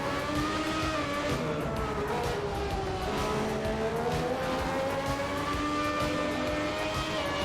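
A 1994 Formula One race car in Assetto Corsa howls continuously at high revs, its engine pitch rising and falling through gear changes and corners, loud and close.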